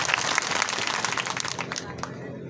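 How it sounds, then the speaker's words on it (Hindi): At a political rally, the crowd bursts into applause: a thick patter of many hands clapping that tapers off toward the end. "ये अमर सिंह जी का जोरदार तालियां बजा के अभिनंदन करें"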